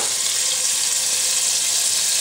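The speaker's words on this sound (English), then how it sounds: "got our pan nice and hot. First things first, we got a nice chunk of butter going in there" A chunk of butter dropped into a very hot pan, hissing in a steady, bright, close sizzle with no talk over it.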